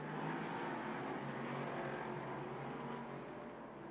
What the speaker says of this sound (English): Those cars are really fast.